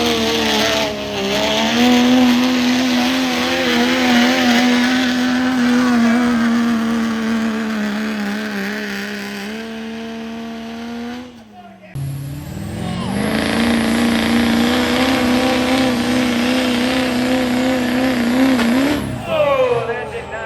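An antique tractor at a tractor show strains hard under load with a loud, steady engine drone, drops out abruptly near the midpoint as the drive shaft breaks, then roars back up; voices call out over it.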